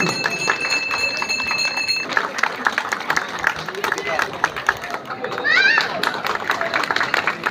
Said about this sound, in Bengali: একটু জোরে করতালি দেবেন নবীনদের জন্য